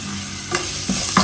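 Ginger garlic paste, dried red chillies and curry leaves roast in a pan, with a continuous low frying hiss broken by a few short scraping stirs close by.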